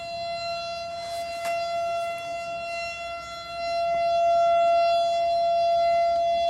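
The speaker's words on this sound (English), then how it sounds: "Yep, there's one siren sound." FPL nuclear plant warning siren test, a steady sustained wail from a distant civil defense siren that grows louder in its second half, heard alone.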